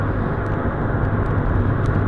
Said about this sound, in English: The noise in the car on highway speed